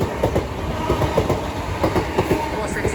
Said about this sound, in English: Soon to pass through now will be a southeastern pairs 465s.